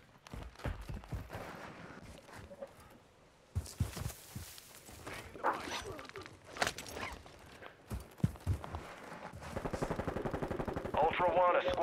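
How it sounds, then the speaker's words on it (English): Video-game gunfire rattles out in repeated bursts of automatic shots mixed with single cracks, loud and close, with radio-style voices speaking between the volleys. "You are taking effective fire."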